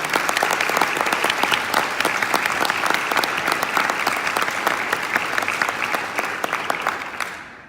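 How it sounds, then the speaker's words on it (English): Sustained audience applause fills a room at the 2018 Pennsylvania Latino Convention, dense steady clapping from a large crowd that carries on for several seconds before tapering off abruptly at the end. "let's give them a big round of applause"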